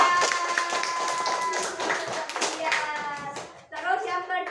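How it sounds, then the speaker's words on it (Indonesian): A classroom of children clap for a student, a busy patter of many small hands layered under a teacher's voice and kids' chatter, before talk takes over. "Yuk, tepuk tangan buat Brilian."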